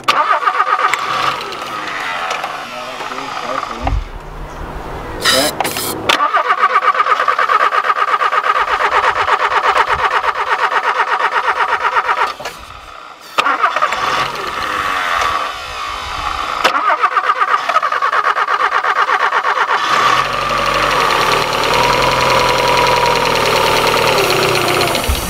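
A Ford Capri fitted with a B6 turbo engine cranks and catches, then runs loud and close, with rough stumbles and brief dips before settling into a steady idle. No one speaks.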